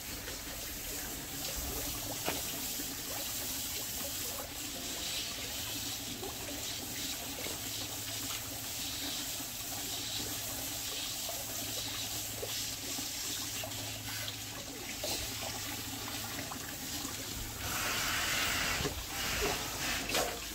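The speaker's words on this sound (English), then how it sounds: "I'm going to water the flowers." Water running from a hose or tap while flowers are watered, a continuous hissing spray of even loudness that swells slightly near the end, with faint background sounds.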